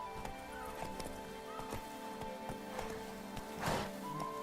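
Horse galloping in the video game The Witcher 3, a steady rhythm of repeated hoof clip-clops with a brief snort or whinny near the end, over faint music-like tones.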